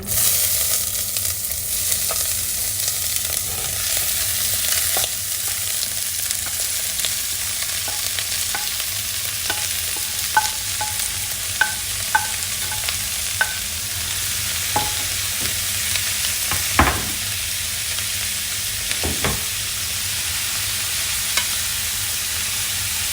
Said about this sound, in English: I'm gonna speak up because of the sizzling noise.